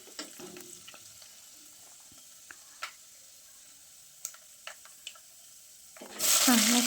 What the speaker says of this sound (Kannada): ಉದ್ದಿನಬೇಳೆ, ಕಡಲೆಬೇಳೆ ಇದ್ದರೆ ಕಡಲೆಬೇಳೆ ಹಾಕಿ ಈ ಥರ ಎಣ್ಣೆಲಿ ಫ್ರೈ ಮಾಡ್ಕೊಳ್ಳಿ